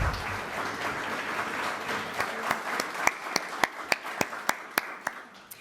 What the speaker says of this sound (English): Join me in giving them a round of applause for putting this together